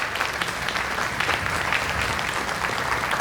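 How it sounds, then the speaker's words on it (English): Applause from a conference audience at the 2019 CNCF Parent Conference, a dense, steady round of clapping that holds at an even level throughout. "if we could give them a round of applause"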